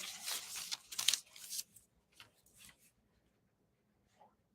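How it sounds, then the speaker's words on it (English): A pen or pencil scratches on paper in a few quick, close strokes and scribbles, loudest at first and then fading to faint, scattered marks. "Let me write this down."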